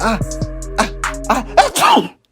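A voice mimics a sneeze: a drawn-out, wavering inhale building up, then a sudden sharp burst of breath, close and fairly loud.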